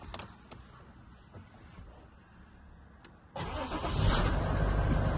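A car engine is started after a few quiet clicks and faint rattles. It turns over abruptly, then settles into a loud, rough idle that sounds like a tractor and grows steadily heavier through the end.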